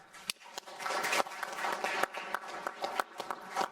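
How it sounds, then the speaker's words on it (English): A small audience claps for panelists at a legal and community strategies event, uneven clapping with distinct individual claps standing out against a moderate wash. "Everyone give them a big round of applause."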